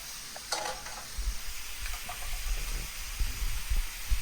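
Onions frying hot on a flat griddle for an Oklahoma onion burger, a steady crackling sizzle with occasional scraping and spatula taps, close and unaccompanied by speech.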